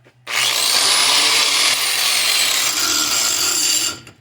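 A handheld grinder with a standard grinding disc reshapes the blade edge from a John Deere STX 46 mower deck. It gives a loud, steady, high-pitched grind that holds for about four seconds, with a slight change in pitch as the disc moves along the steel.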